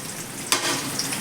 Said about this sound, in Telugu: వేగిన తర్వాత ఉల్లిపాయ ముక్కలండి